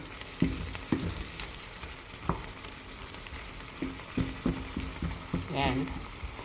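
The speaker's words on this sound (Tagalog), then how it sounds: "Ina-add ko ng konting water para madaling maluto yung okra." Okra cooks in a pan with a little added water, giving a soft, quiet sizzle with scattered stirring clinks and scrapes. A brief utensil knock sounds near the end.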